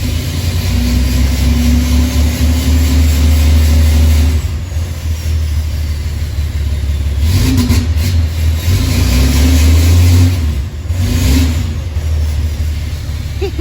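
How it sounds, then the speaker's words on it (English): A loud, raw truck engine with no exhaust fitted idles roughly and revs several times in bursts, blaring close by with an unmuffled, throaty roar between lower idle stretches. "I don't have the exhaust built on it yet, but I have to move the truck out"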